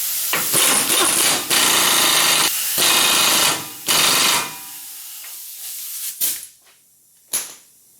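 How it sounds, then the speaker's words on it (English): Front drive axle nut being tightened on a 2007 Nissan Xterra during a wheel bearing and hub replacement, with loud rattling power-tool bursts in several long runs that fade into shorter, fainter hits. "our last step is putting the drive axle nut back on"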